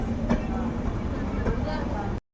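A passing train rumbles and rattles steadily close by while another train sits halted on a hill line, the low drone with faint clacks holding level before cutting off abruptly.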